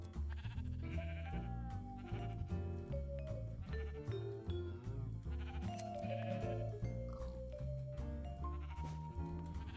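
Sheep in the Minecraft video game bleat in several short, wavering calls over a busy, continuous background of game music.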